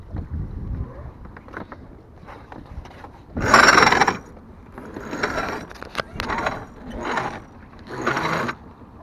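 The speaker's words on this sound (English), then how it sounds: "Instead get the sheet on the winch." Sheet winch ratchet on a CLEO Raven 26 sailboat clicks in several short bursts of rapid pawl clatter, close and fairly loud, over wind and water noise with faint voices in between.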